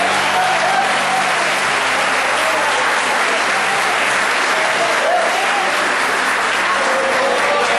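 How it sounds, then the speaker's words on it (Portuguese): A church congregation applauds in a dense, steady roar of clapping that fills the room for the whole stretch, with faint voices woven underneath. "Você pode aplaudir ao Senhor por isso."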